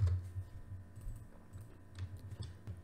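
Keys tapped on a computer keyboard while entering a filename into Python tkinter code, a quiet irregular run of soft clicks through the clip, close by and faint.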